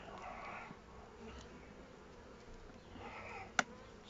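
Honeybees hum softly in an opened hive during a first colony inspection after winter, a faint steady drone with a single sharp click near the end.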